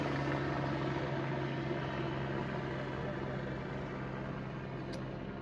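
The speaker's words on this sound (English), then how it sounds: "We have a helicopter flying right over to top of my house." A steady low droning rumble of a helicopter passing overhead, constant and fairly loud throughout with a faint hum underneath.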